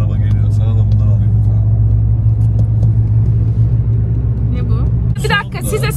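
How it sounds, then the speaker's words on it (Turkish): A car goes by on a road during a snowy outing, its engine a steady loud low rumble that holds throughout, with someone talking over it. "Bak araba geliyor"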